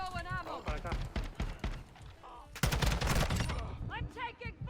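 Rapid bursts of automatic gunfire ring out in the Modern Warfare 2 video game, with a loud volley near the middle, mixed with game voice callouts and other in-game talk.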